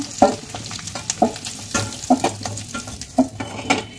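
Spiced boiled potatoes fry in hot oil with a steady sizzle, broken by periodic sharp clinks and scrapes of a spatula stirring against the pan, close up and without voices.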